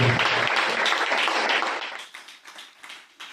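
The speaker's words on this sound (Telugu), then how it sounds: "చప్పట్లు కొట్టండి గట్టిగా గట్టిగా గట్టిగా" A church congregation at a Hosanna Ministries service claps loudly in a dense burst of applause that fades into scattered, thinning claps.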